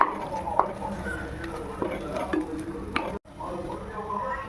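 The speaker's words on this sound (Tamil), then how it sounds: "கொஞ்சம் மல்லித்தூள் இதை அப்படியே மிக்ஸ் பண்ணி திக்கி விட்டுருவேன்" Coriander powder being stirred into a masala for egg paneer masala in a pan, with steady scraping and stirring strokes over a faint background sizzle, close and moderately loud, with no one speaking.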